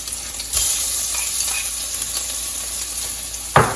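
Jalapeños, crushed garlic and three small chilies sizzling in hot oil in a pan, a steady bright crackle with a stir, and a sharp clatter near the end.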